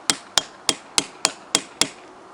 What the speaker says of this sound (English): just take a hammer or the end of an axe like I'm doing here.